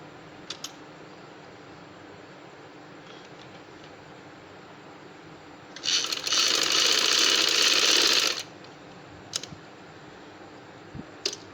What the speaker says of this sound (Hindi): फिर इसको हम यहाँ पे सिलाई लगाएंगे